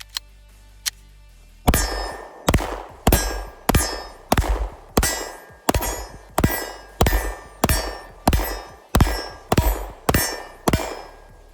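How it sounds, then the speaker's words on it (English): A Glock 19 Gen 5 pistol fires a steady string of about fifteen shots at steel targets. Each sharp report is followed by a ringing clang. A couple of faint clicks come before the firing starts. "Let's go ahead and shoot a couple of rounds."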